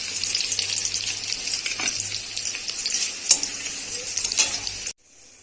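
Onions frying in a pan for ghugni, a dense bright sizzle held close and steady for about five seconds with a couple of stirring scrapes, then cutting off abruptly.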